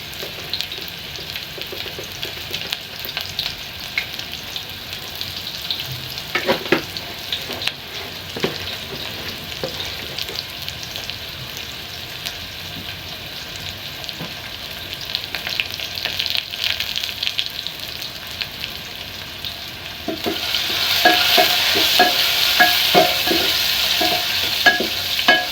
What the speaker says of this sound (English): So let's leave our onions to cook for some time.